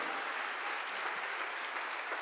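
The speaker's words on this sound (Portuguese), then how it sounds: "Só os que recebem, faça barulho e aplauda Ele" A church congregation gives steady, fairly soft applause during a worship service, a continuous wash of clapping with no voices on top.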